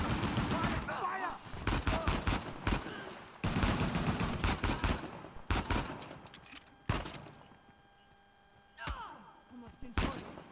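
Firefight gunfire in Uncharted: The Lost Legacy, repeated loud bursts of automatic fire and single shots in clustered volleys, with brief quieter gaps and a few shouted voices between.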